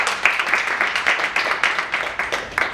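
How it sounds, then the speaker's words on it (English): Applause at an Earth Day panel for a JCs chapter president, a modest group clapping with a loose rhythm of distinct claps, fairly close and moderately loud. "Alex, round of applause,"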